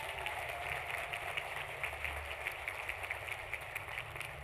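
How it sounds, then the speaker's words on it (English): A commencement audience at the USC Leonard Davis School of Gerontology applauds its speakers, with steady, distant clapping through the whole stretch and no talking over it. "Let's hear one more round of applause for our speakers"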